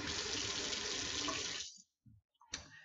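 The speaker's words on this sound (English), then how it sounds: "And then we do have running water in here." A sink tap in a tiny house runs in a steady, broad rush of water for about a second and a half, then shuts off, followed by a few soft clunks and a brief splash.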